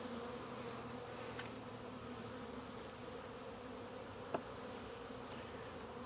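A dense, steady drone of many honeybees buzzing around an open hive frame during a Demaree split, continuous and fairly close, with a faint click near the end.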